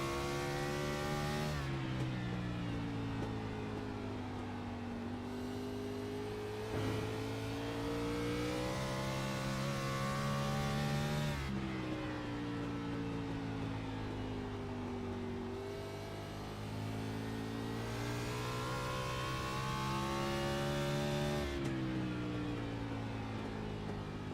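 Onboard the number 96 race car during a lap at Nashville, the engine roars continuously at close range, its pitch rising through gears and dropping at corners in repeating cycles.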